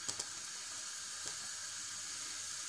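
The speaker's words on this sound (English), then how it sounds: "Once the oil is hot, put some curry leaves" Curry leaves sizzle in hot refined oil in a deep pan, a steady bright hiss throughout with a couple of faint crackles near the start.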